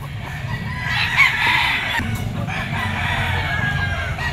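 Two-year-old high action hatch gamecocks crowing, with a prominent crow swelling near the middle over a steady low background rumble, moderately close.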